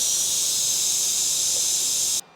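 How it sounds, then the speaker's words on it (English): Steam hisses out steadily and loudly as pressure is released from a Ninja Foodi pressure cooker making butternut squash soup, a constant high rush that cuts off abruptly near the end. "All right, just killed the power, release the pressure."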